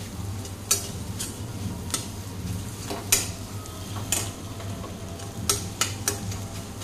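A spatula scrapes and taps against a pan while egg bhurji is stirred and broken up for rice pulao, with irregular sharp clinks over a steady low sizzle of frying.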